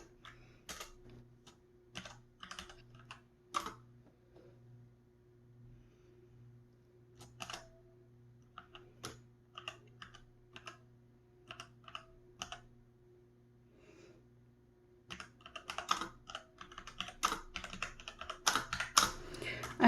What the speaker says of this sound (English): I'm typing in the name of what I want to call it so I can find it when I'm done.